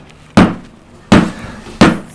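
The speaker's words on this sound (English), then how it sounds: "I'll use the mallet first time" Three sharp, loud wooden mallet blows on a carving gouge while cutting an ornamental leaf for a mirror frame, each a crisp close knock with a short decay, spaced irregularly with quiet gaps between.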